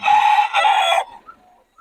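A rain-wet chicken's loud, close squawking call in the rain, drawn out then cut short, followed by a few faint clucks.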